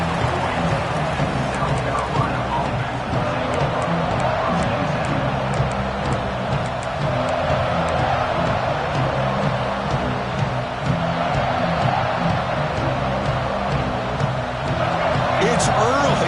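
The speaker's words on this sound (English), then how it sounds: "It's early, but this crowd is fired up. Listen to this noise here." Crowd noise fills a college football stadium at an OU game, a loud, dense, continuous roar that holds steady, with a commentator talking over it.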